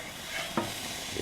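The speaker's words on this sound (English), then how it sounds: "Got a little sizzling going on." Stuffed peppers frying in a pan give a soft, steady sizzle, with a brief scrape or stir partway through. The sound is fairly quiet and close, and no one speaks.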